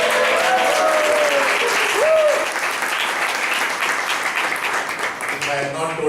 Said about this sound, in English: And the applause must go to Rahul for showing that